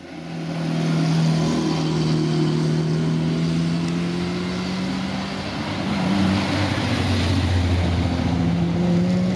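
Around seventy vintage cars in a regularity trial roll through the town of Fornovo along via Veneto, a steady engine drone with rising and falling tones as vehicles pass at close range, continuous and fairly loud.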